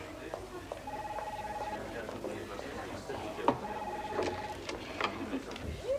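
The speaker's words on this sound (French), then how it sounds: "Christina, téléphone." An old telephone rings in two short electronic bursts amid a busy room, with people speaking over the sound and small clatters around it.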